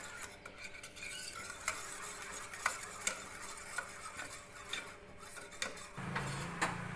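Jowar flour being stirred and whisked into buttermilk in a bowl, with repeated close scraping and tapping of a utensil against the container in an irregular rhythm, and no talking.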